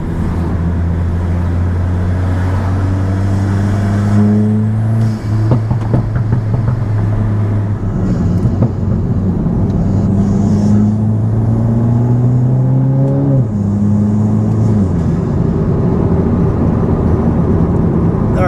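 A Volkswagen Golf MK8 GTI with a Milltek race exhaust revs hard and loud up close, climbing in repeated long pulls and dropping back between them, with a deep droning rumble throughout.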